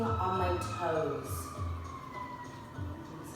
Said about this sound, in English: Siren going on in the background.